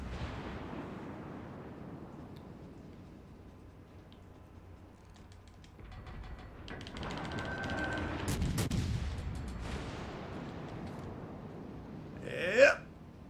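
Warship guns firing in World of Warships Legends, with the Jean Bart among the ships: low, distant booming salvos swell into a rolling rumble, and one sharper, louder blast lands near the end.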